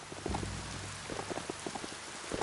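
Steady rain falls in the video game Biomutant, a dense, even patter with scattered nearer drops spattering on surfaces, no voices over it.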